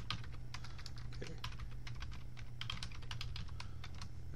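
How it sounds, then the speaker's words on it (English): Rapid, irregular clatter of fingers typing a password on a computer keyboard, close and fairly quiet over a steady low room hum, with no talking. "I type in my password."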